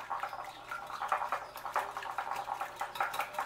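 Olive oil drizzled slowly into an anchovy-paste Caesar dressing base while being whisked, a soft rhythmic wet swishing and clinking of whisk against bowl, close and steady, with no talking.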